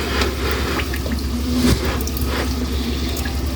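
Water pours steadily into a bucket at home, a continuous close splashing and gurgling stream with a brief louder surge partway through.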